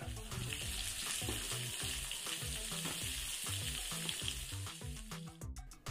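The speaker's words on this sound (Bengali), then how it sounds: "এরপর কাঁচা পেঁয়াজগুলোকে ভাজতে শুরু করলাম।" Raw onions fry in hot mustard oil, giving a continuous close sizzle with rhythmic low stirring strokes roughly twice a second, fairly quiet and without talk.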